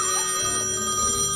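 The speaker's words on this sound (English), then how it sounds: "The phone's ringing" A telephone rings in the haunted town of the Haunt the House: Terrortown video game, a steady bright electronic ring that fills the short moment at close range with no talk over it.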